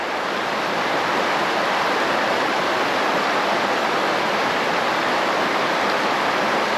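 A trout creek rushes and burbles close by in a steady, loud broadband wash, unbroken for the whole stretch with no voices or other sounds rising above it.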